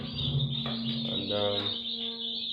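Young birds chirp faintly in a poultry farm brooding house, soft high peeps running steadily beneath a constant hum of fans or heaters.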